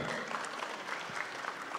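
Faint, steady applause from a large audience at a youth organization's national assembly, continuous dense clapping heard at a distance.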